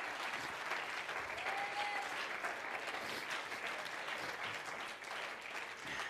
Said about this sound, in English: Why don't you clap your hands to the Lord?